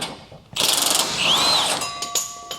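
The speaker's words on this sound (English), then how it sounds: "Removing these bolts." A ratchet wrench clicks rapidly, backing out bolts on a vehicle during installation of an Air Lift LoadLifter 7500XL air spring kit, a close metallic ratcheting burst followed by a few scattered clinks and taps.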